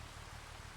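Rain falls in the farming video game Farming Simulator 25 as a steady, even hiss of drops with a low hum underneath, with no talk.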